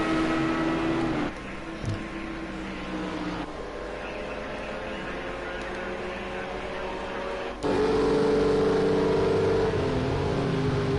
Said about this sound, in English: This is the roar of that engine going down the final corner.